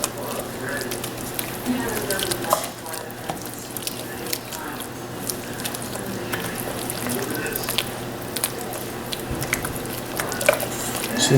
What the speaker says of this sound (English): We'll keep stirring it and let this saute.